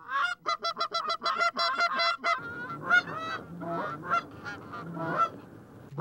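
Geese honking loudly and repeatedly close by during a waterfowl hunt, a rapid run of overlapping calls at first, then scattered honks continuing over a low murmur.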